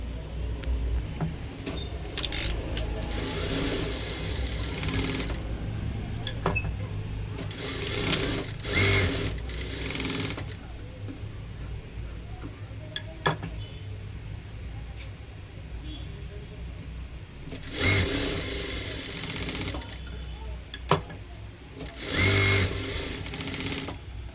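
A sewing machine stitches the shoulder seam of a blouse, running in several loud, close bursts of rapid whirring with quieter gaps between.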